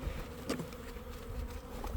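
A dense, steady buzz of many honey bees fills an opened hive during an inspection, close and continuous with no talking.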